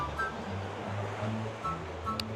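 Ocean surf at a beach on a nature trip, a steady broadband wash of waves rolling in at moderate distance, with a low rumble beneath and no clear voices.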